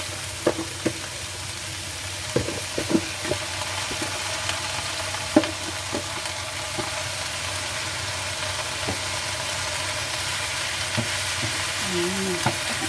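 Bacon frying for pancit bihon, a loud steady sizzle in a pan with scattered clicks and scrapes of stirring, and a brief faint voice-like sound near the end.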